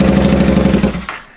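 A 300 engine that has just been swapped into a vehicle runs with a loud, close, steady rumbling throb, then winds down and cuts off near the end.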